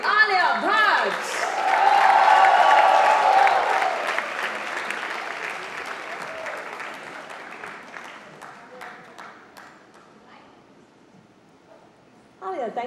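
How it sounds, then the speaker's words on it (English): A large audience at an Outlook Business Women of Worth event bursts into loud applause welcoming Alia Bhatt on stage, the clapping and cheering swelling early then gradually thinning out, while an amplified voice speaks over it at the start and end. "Ladies and gentlemen, please put your hands together to welcome on stage the one and only Alia Bhatt."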